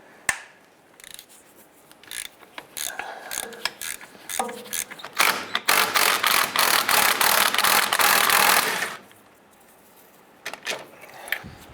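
Ratchet wrench loosening 15 mm starter bolts on a Jeep Liberty, bursts of rapid clicking and rasping that build into a long dense grinding run and then stop, with a few short clicks near the end.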